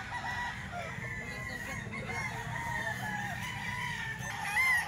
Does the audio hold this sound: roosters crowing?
yes